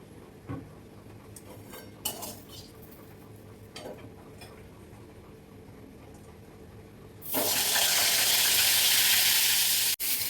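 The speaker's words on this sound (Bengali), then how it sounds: "এখন হচ্ছে গিয়ে পটল ভাজা" Pointed gourd (potol) pieces frying in hot oil, with a loud, steady sizzle that bursts in partway through after quieter clinks of pan and utensils, then carries on alone without talk.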